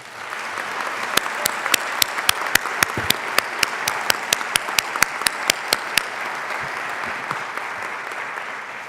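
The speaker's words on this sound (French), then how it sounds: "applaudissons nos diplômés" Audience applause at an optometry school graduation ceremony for the 2018–2019 class, a steady, full wash of clapping with a few sharper claps standing out, fading toward the end.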